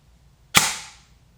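A single sharp pop from an airsoft gun firing a 0.2 gram BB through a chronograph, close and loud, with a quick fading tail and no voices.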